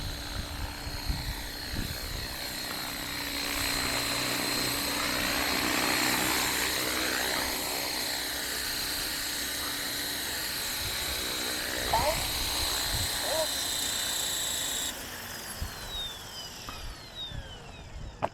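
Blade Fusion 360 RC helicopter on a 3S setup whining steadily as it hovers and sets down for a landing, a constant high rotor and motor drone with a pitch shift near the end, with a voice talking over it.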